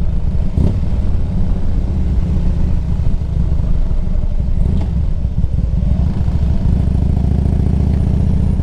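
A 2003 Harley-Davidson Electra Glide Classic engine runs close by, holding a loud, steady, low rumble throughout with no clear revving.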